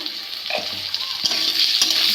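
Potato pieces sizzle in hot oil with a bright, steady crackle, broken by a few scraping stirs of a spatula in the pan.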